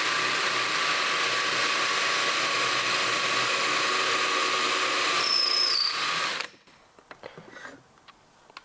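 A power drill with an 8mm bit bores a hole in wood, running loud and steady for several seconds, then stops, leaving faint clicks and light handling noises.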